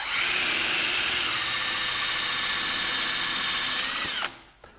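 A power drill spins a round tenon cutter into the end of a wooden stick, a loud close whine with steady cutting that drops in pitch near the end before stopping.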